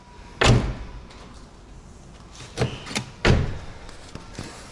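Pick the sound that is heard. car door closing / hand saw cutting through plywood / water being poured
car door closing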